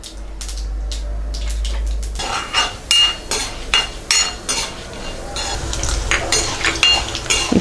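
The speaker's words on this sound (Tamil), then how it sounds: "கடுகு நல்லா பொரிஞ்சிட்ருக்கு." Mustard seeds splutter and pop in hot oil with chana dal and urad dal while a spoon stirs the pan for masala pori, a dense, close crackle of sizzling and scraping after a brief low rumble at the start.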